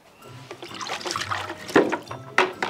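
Water runs and trickles into a bucket in a household setting, a steady splashing flow with brief louder surges, heard close by under low background noise.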